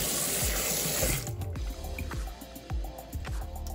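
Tap water runs into a sink while drink-powder-dyed wool yarn is rinsed, a rushing stream for about a second, then gentle splashes, drips and soft clunks of the wet yarn, close by with no talking.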